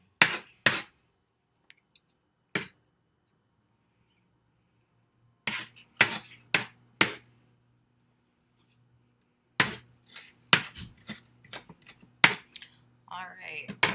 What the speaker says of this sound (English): So just kind of chopping up that for the salad.